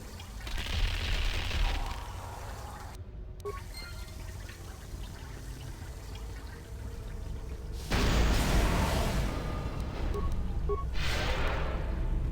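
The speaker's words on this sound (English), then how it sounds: "launch the special cold grenade at it" In the Star Wars: Knights of the Old Republic video game, a special cold grenade is launched at a pool of acid. Rushing, hissing bursts rise at the start and again later over a low ambient background.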